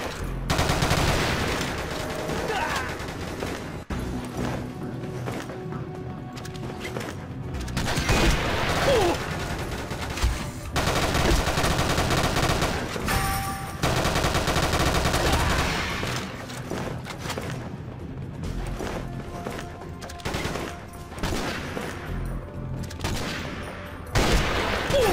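F2X sniper rifle firing in a video game, heavy shots bursting out amid continuous battlefield gunfire and mechanical reloading clicks, loud and close, with occasional voices underneath.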